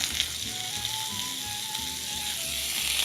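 Tofu sizzles in oil on a hot grill, a steady crackling hiss with a low rumble underneath and no voices.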